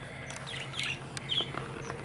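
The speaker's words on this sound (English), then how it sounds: "Let me just show you the birds." Small garden birds chirp in brief, scattered tweets over a quiet outdoor background, faint and somewhat distant, with no talking.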